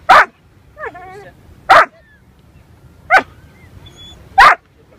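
A dog at the beach barks on command: four sharp, loud, close single barks spaced about a second and a half apart, with a short whining whimper between the first two.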